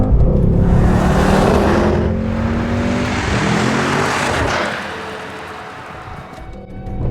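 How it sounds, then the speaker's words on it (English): A loud Mercedes-AMG GT 63 S V8 engine roars close by, revving and downshifting through gear changes with rough exhaust pops, the sound swelling and falling with the drive. "Up into 4th, down to 3rd. That's quite a nice noise."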